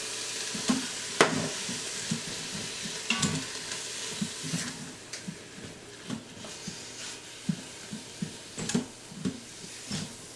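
Ground taco meat frying in a pan as it is broken apart, with a steady sizzle broken by repeated scraping, stirring knocks from a utensil, close and fairly quiet, with no talking.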